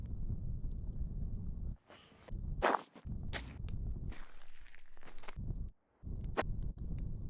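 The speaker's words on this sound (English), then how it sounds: "Footsteps, wood floor." Footsteps cross a wood floor at a quick pace, several close knocks and scuffs set against a dense low rumble that cuts out briefly now and then.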